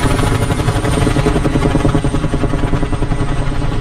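Mi-8MTV helicopter in the DCS flight game: its rotor and engine give a loud, close, continuous drone, with the rhythmic blade chop pulsing steadily through the whole stretch and no talk over it.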